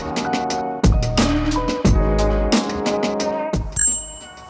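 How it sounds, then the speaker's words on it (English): A bicycle bell on e-bike handlebars rings repeatedly and close, with several bright rings at uneven intervals whose tones overlap and linger. "Yes, a bell."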